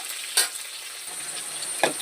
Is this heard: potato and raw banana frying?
yes